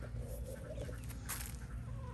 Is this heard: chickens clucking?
yes